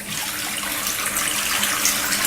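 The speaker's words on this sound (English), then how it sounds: "turn water on either in the bidet to full force hot" Hot water gushes at full force from a bidet tap, a steady, loud, hissing rush of running water with no voices.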